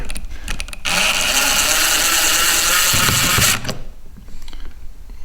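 Center pin of a kayak rudder on a Hobie Pro Angler being loosened, a loud, close continuous mechanical whir lasting about three seconds with ratcheting clicks before and after.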